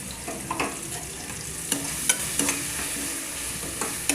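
Dried red chillies frying in a pan for yellow rice, a soft steady sizzle broken by sharp clicks and scrapes of stirring, fairly quiet and without talk.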